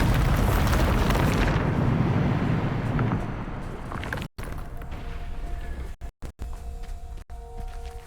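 Bombarda explosion spell in Hogwarts Legacy, a loud, broad blast that rumbles and fades over several seconds into a quieter hissing tail, broken by a few abrupt dropouts near the end.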